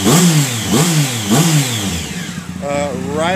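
A 2011 Triumph Speed Triple motorcycle with large cams revs sharply, with three quick throttle blips climbing toward about 6,000 RPM, a brief dip, then a longer rising rev, loud and close.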